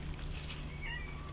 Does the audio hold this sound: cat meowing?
yes